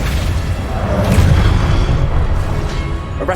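A Flipendo spell strikes in the Hogwarts Legacy video game, giving a loud, close, sustained booming rumble with crackling texture that holds steady throughout and flares briefly sharper near the end, with no voices.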